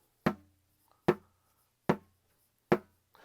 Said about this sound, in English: When you hear the drum